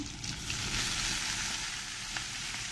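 Dill leaves hit a hot pan with soaked dal and sizzle loudly and steadily, a close, continuous frying hiss with faint stirring and no voices.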